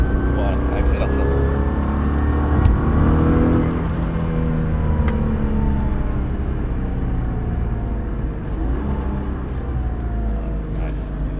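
Car engine accelerating hard and revving through gear changes during a driving lesson on a track, a steady loud drone under continuous talk from an instructor.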